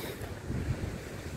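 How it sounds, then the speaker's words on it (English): Wind blows across the microphone on a windy seashore near the pier at Clacton, a low, buffeting rumble with steady surf-like noise and no speech. "Just the wind was blowing it, that's all. Because it is fairly windy."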